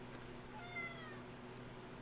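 A single soft, drawn-out cat meow rises briefly above a quiet room hum, faint and close, with no talking.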